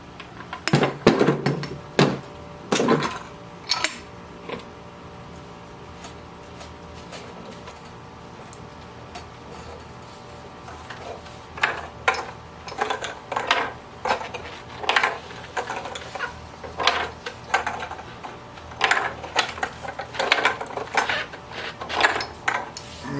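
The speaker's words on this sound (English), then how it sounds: "I can go ahead and screw on the pressure chamber" Pressure chamber screwed onto a Teflon-taped ram pump fitting, a series of close metallic clicks, scrapes and ratcheting taps in uneven bursts, with quieter pauses between.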